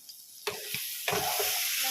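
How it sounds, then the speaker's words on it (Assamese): Duck meat curry stirred in a pan, with a few distinct scraping strokes over a steady sizzle that grows louder toward the end. "মাংস ইয়াত লৰাই দিলোঁ।"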